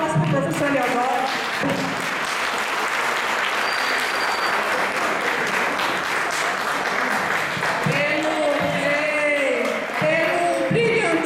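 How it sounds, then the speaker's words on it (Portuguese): Sustained audience applause for a professor at the closing of an urban planning colloquium, steady and full throughout, with voices talking over the clapping. "Por favor, uma salva de palmas"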